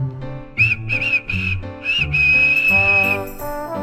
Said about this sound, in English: James whistled at them